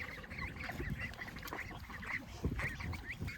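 Ducks quacking and honking in a backyard near water, a steady run of close, overlapping calls with no talk over them.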